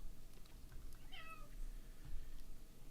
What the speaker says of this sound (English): My cat was yapping at me.